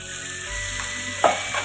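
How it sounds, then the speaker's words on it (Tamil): Tomatoes and onions sauté in a pan with a brief, steady sizzle and a single soft stirring clink. "இப்போ வந்து நம்ம தக்காளி போட்டுக்கலாம்"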